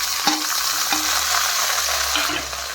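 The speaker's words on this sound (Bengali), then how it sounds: "টমেটোটা এখন লাল লাল করে ভেজে নিই" Tomato and onion fry in a pan with a steady, close sizzle, broken by a few sharp clacks of a spatula stirring against the metal.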